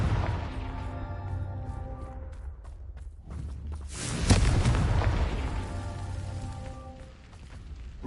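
A Confringo fire spell explodes in Hogwarts Legacy, a deep booming blast that swells in the middle of a rumbling game soundscape, with a sustained low roar around it and background music tones.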